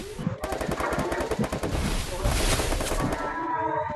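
Gunfire in a video game comes as rapid, loud, continuous machine-gun bursts close up, with a voice talking briefly at the start.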